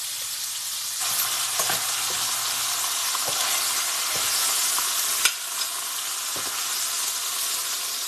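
Ribeye steaks fry in a pan over high heat with a steady, loud, close sizzle that runs the whole time, broken by a few sharp pops and spatters.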